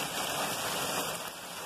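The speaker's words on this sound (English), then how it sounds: "That is all hail coming in, guys." Hail pelts down in a thunderstorm, drumming on and around a car as a dense, continuous patter of hard hits with faint steady tones running beneath, nearby and without any talking.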